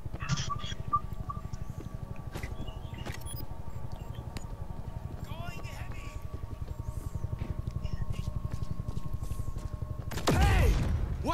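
Steady rapid gunfire in a zombie shooter game, a continuous chattering burst running under the scene with a louder crash near the end; no talk is heard.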